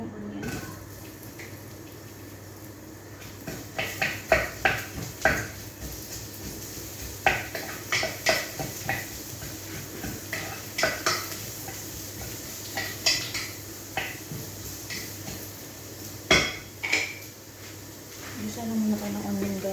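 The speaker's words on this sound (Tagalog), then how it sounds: "Isa lang muna tayo ng onion guys hanggang maging translucent yung color." Onion sautéed and stirred in a pan for a crab and cauliflower soup: a soft continuous sizzle broken by repeated scraping strokes of a spatula at an uneven, brisk rhythm, close by and moderately quiet.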